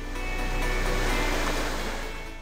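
Ocean waves break and roll at a surf spot in Krui, Indonesia, a loud continuous wash of surf that swells and fades with no voices.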